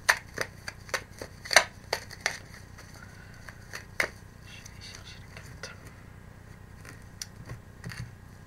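Tarot cards being shuffled, giving a run of sharp, close riffling snaps early on that thin into softer, sparse card sounds, with faint room tone beneath.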